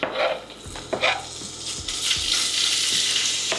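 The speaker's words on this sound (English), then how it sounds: "We have got some lovely smoked, what we call streaky bacon, and this is going into the pan to form our bacon bits." Smoked streaky bacon sizzles and fries in a pan, with a steady broadband hiss throughout and a few sharp clinks of a utensil against the pan near the start.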